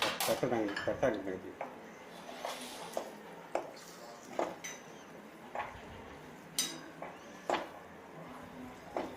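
Mango thokku pickle with asafoetida stirred in a pan, a series of sharp clinks and scrapes of a spoon against metal at irregular intervals, with speech between.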